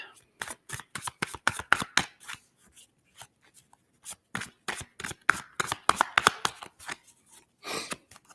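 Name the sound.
shuffling tarot cards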